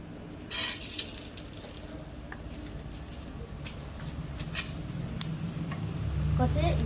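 Urad dal frying in a pan of oil for a coconut curry, a steady soft sizzle with scattered light crackles and pops that grows slightly louder near the end.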